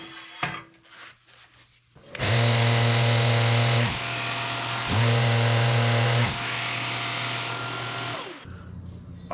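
A power sander smooths the bottom of a turned sweet gum bowl, starting with a steady, loud whirring hum that drops out briefly near the middle and resumes before cutting off, with faint handling noises before it starts.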